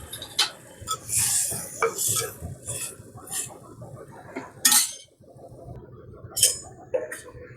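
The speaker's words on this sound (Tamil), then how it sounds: "சுண்டலை இதில் அப்படியே கொட்டிடணுங்க." Boiled chickpeas tumble into a metal pan of sautéed onions with clattering and stirring scrapes, a few sharper clinks of a utensil against the pan, close by.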